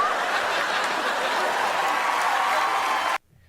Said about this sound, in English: huge applause break there